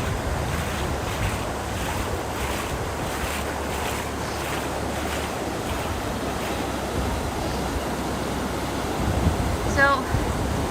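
Strong floodwater rushes past in a yearly seasonal flood, a loud continuous churning roar with gusty wind buffeting the microphone and a voice speaking over it.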